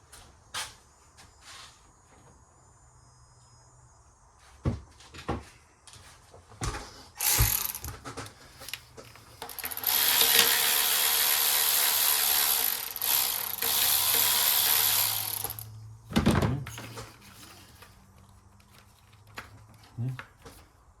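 A socket wrench ratchets while work is done on a Toyota RAV4 engine, giving several short clicking bursts and one longer stretch of ratcheting that rises to a fairly loud, dense chatter, with someone speaking in between.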